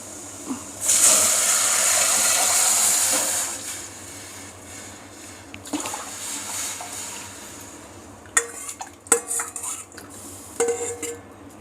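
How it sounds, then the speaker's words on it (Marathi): Dal cooking water is poured into a pan for katachi aamti: a bright hissing rush of liquid lasts a few seconds, followed by scattered metallic clinks and scrapes of a spoon stirring in the pan. "आता यात डाळीचं येळवण्याचं पाणी वतून घ्यायचं"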